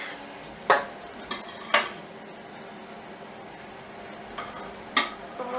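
Butter melting in a hot pan while crumpets cook, a steady soft sizzle and frying hiss with a few sharp clinks of a utensil against the pan, close, no voices.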